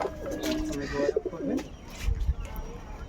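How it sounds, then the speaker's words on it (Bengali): Pigeons kept by a breeder coo in low, throaty phrases close by, mixed with faint chirps and some rustling, with a voice briefly present. "পায়রাগুলো ছেড়েও দেখাবো"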